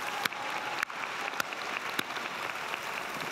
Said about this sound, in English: Let's have some applause for them.